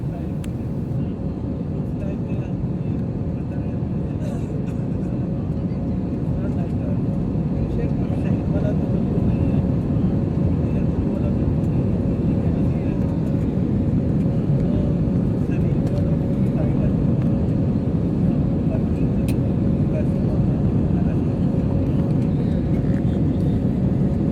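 Inside the cabin of an AirSial airliner climbing after takeoff from runway 04, a loud, steady engine roar and broadband rush continue without a break for the whole stretch, with no clear talk.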